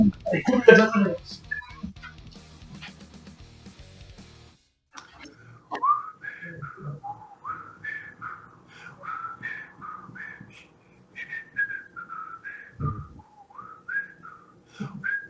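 A person whistles the Who Wants to Be a Millionaire tune in wavering phrases, following a brief burst of talk and clatter at the start.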